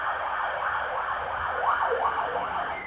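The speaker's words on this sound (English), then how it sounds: "ambulance is loud." An ambulance siren wails steadily, its pitch sweeping up and down in a continuous cycle, loud and close with no other sounds.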